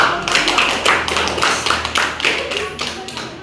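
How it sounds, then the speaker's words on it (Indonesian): A primary school class claps together at a teacher's request, a near, slightly uneven run of hand claps and light taps that wanders in rhythm, with a faint low hum underneath. "Mari kita tepuk tangan dulu"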